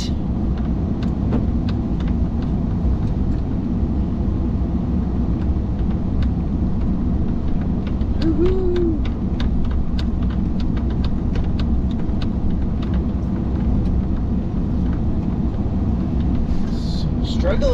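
A vehicle grinds slowly through deep, sticky spring snow near a ditch, a steady loud low rumble filling the whole stretch with small crunching knocks, heard from inside.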